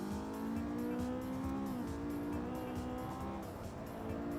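Race car tires squealing through a long slide in the racing game Assetto Corsa, a loud sustained screech bending in pitch over a steady engine drone, no talk.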